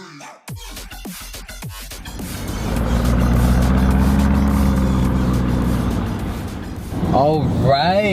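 A Lamborghini Urus SUV's engine revving up into a loud, sustained roar heard from inside on a freeway, with a person speaking before the engine swells and whooping over it near the end.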